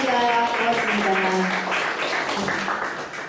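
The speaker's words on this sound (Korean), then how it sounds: "여러분 박수 부탁드립니다" Audience at a literary lecture event applauds the presenters, scattered clapping from many hands heard under a voice that speaks over it and gradually fades.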